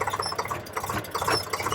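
A farm tractor engine runs with a fast, steady mechanical chugging throbbing up close, with no talking.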